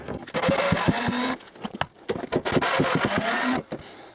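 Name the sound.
removing two screws from a workshop tabletop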